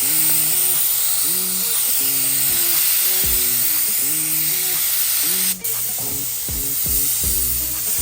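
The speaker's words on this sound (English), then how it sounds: "That gun apparently is gonna be good for primer. It's way spraying, the nozzle's way too big." A paint spray gun with an oversized nozzle sprays primer onto 2016 Ford Focus car parts, giving a loud, steady hiss through the whole stretch. A low, repeating electric tone sits beneath it.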